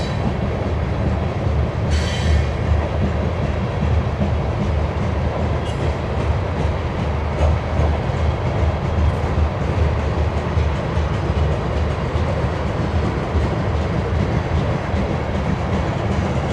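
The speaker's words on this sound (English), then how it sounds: "That's a good long train, I must admit." A long BNSF westbound grain train rolls steadily past close by in Spokane Valley, Washington, its continuous loud rumble of railcars and wheels on rail lasting throughout with a brief higher squeal early on.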